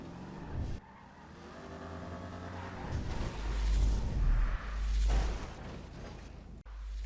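A car in GTA V drives with a revving engine and tires screeching in long skids, plus a brief heavy thump partway through, all close and loud with no talk.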